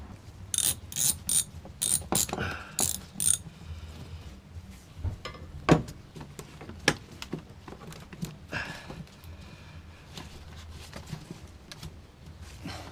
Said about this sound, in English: I might need to undo the hose here, so I'll get me a 7mm, same as the Corsa C.